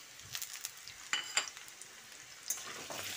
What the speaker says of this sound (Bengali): আলুগুলো দিয়ে নাড়াচাড়া করে দিচ্ছি। খানিকক্ষণ কষিয়ে নিয়ে